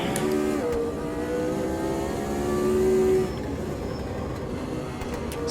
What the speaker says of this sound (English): Accelerating early, as early as possible, out of the sunset.